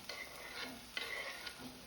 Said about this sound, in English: Meantime, stir curry, and I am using beans here.